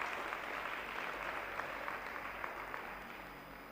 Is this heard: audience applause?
yes